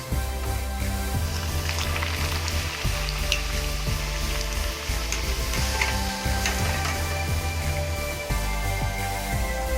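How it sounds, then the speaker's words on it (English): Continuous crackling sizzle of rajgira puris deep frying in hot oil, steady and close, with faint clinks in the background. "So similarly we can fry all the puris if you want to deep fry the puris."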